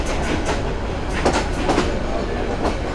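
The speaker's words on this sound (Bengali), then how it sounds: "আমাদের ট্রেন কিন্তু পিছাচ্ছে" The Mohua commuter local train rolls along with a steady rumbling roar and faint rhythmic rail clatter, heard from inside the carriage at close range.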